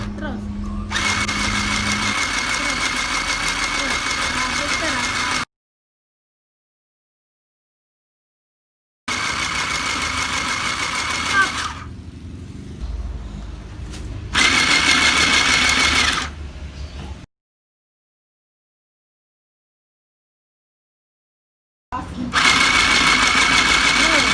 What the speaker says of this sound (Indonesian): kain dasar yang kalian ukur tadi kalian jahit di sisi kiri, kanan maupun bawahnya